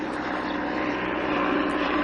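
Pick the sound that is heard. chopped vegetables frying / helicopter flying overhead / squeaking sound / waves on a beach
helicopter flying overhead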